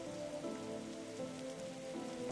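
Steady rain patters on surfaces in the detective adventure game The Darkside Detective, a continuous even wash of drops with a faint tonal background underneath.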